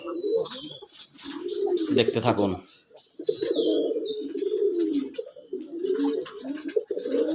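A male sky-blue Raj Golla pigeon coos repeatedly up close in low, rolling phrases, with a brief spoken voice breaking in partway through and faint chirps behind.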